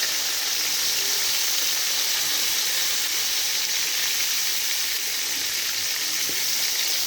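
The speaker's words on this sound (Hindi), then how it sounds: "अब उसी ऑयल में हम प्याज डालेंगे।" Onions frying in oil in a home kitchen, a loud, continuous hiss and sizzle, steady throughout with faint low rumble beneath.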